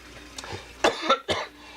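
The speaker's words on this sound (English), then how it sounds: "choking on buffing dust." Harsh coughing fits from someone choking on buffing dust while polishing old paint, three loud close bursts at irregular intervals with a quieter hack before them.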